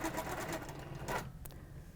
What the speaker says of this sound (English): So stitching down and back up.